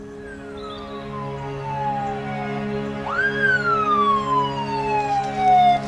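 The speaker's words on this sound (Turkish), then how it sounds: "Ambulans geliyor yolda." A loud ambulance siren wails steadily, its pitch sweeping down and then rising again partway through, with a low engine hum beneath.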